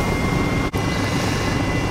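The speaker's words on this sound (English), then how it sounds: "Now to land this tricky chopper right between the two old hangars." Steady, loud broadband rotor and engine roar from a helicopter flying near old seaplane hangars, continuous throughout with one very brief dip.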